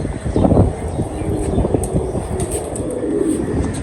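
Racing pigeons kept for a Lahore flying competition coo softly and close by amid rustling and a low, busy background hum, with no clear speech.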